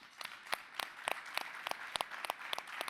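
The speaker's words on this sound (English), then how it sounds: "Please give them a round of applause." Scattered applause from a modest audience at a talk on vulnerability and masculinity: crisp individual claps at an uneven rhythm, fairly quiet and without voices.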